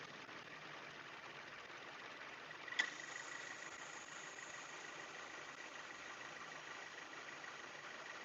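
A 2018 Subaru Forester XT engine idles steadily while warming up, a quiet, even drone heard from nearby with one brief click partway through.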